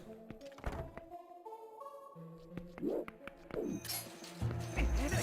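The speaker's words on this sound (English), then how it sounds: "you can just one-shot them with this, with the ball and chain" Heavy metallic thunks and clinks as a ball and chain smashes into enemies in Twilight Princess, several separate impacts spread over music, ending in a louder burst of noise.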